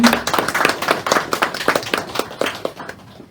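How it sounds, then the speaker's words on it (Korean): A congregation claps in welcome during a church ordination service, a steady burst of many hands lasting a few seconds before thinning out at the end. "박수로 환영해주십니다"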